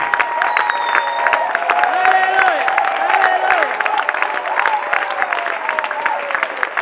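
A large church congregation at a Prière des Nations Kongo gathering in Brazzaville's congress hall applauds and cheers loudly, with dense continuous clapping and raised voices shouting and whooping throughout.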